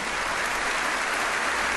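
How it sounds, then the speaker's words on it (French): A church congregation applauds at a Bible study gathering, a dense, even patter of many hands clapping continuously at moderate volume, without voices. "Un grand applaudissement pour les frères et sœurs."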